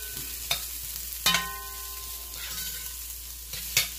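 A chopped yellow onion sizzles quietly in a pan of frying chicken chow mein, with a soft steady crackle broken by three sharp utensil clinks and scrapes as it is stirred.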